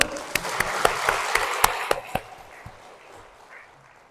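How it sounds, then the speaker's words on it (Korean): An audience in a Catholic parish church gives a brief round of applause, a few sharp distinct claps over a short burst of clapping that quickly fades into quiet room tone. "박수!"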